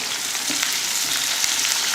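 A large onion and curry leaves fry in oil, giving a steady, soft sizzle with faint crackles throughout. It is close by, with no voices.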